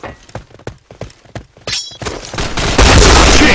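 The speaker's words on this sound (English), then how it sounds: "Headshot! Nice shot!" Gunshots in the shooter video game Point Blank. A rapid series of sharp, separate shots comes first, then a loud, sustained wash of blasts and game noise. No one speaks.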